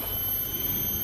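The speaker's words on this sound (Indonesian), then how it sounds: "bunyi riang-riang ke, rasa bukan kot, macam bunyi cengkerik je" Forest insects, cicadas or crickets, at Bukit Dua Ringgit make a continuous shrill high-pitched drone over a low, faint ambient background.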